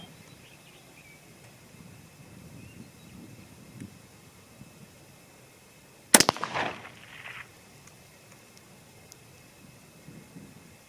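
A single sharp rifle shot from a Howa 1500 Mini firing 22 ARC factory ammo outdoors, a sudden loud crack with a short echoing tail amid quiet background.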